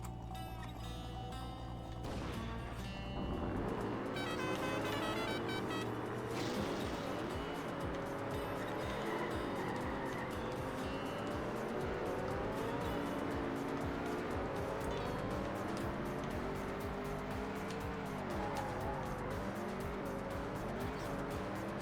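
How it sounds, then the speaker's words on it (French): A Mad Max car mod in TrackMania United Forever revs up and races continuously, its game engine note climbing and sweeping through gear changes, loud and steady over background game music. "Et voici la voiture de Mad Max."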